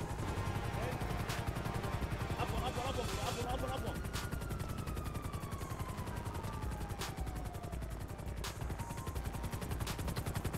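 Rapid gunfire bursts in the GTA 5 video game, dense and continuous with sharp repeated shots, a vehicle or helicopter drone underneath and a falling whine, with voices mixed in.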